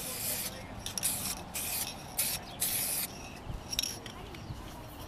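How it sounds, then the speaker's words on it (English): Headlight restoration coating sprayed from an aerosol can in several short even passes, each hiss lasting about half a second to a second with brief gaps between, close and steady, with no talking. "Spraying good even coats."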